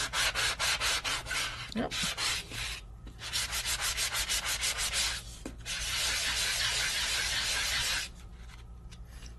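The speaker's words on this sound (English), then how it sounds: "sand into the back side and you're going to get a completely different look." Sanding the back side of a Sizzix stencil, with steady rapid rubbing strokes in bursts, loud and close, then a longer continuous scrub, and a brief spoken word.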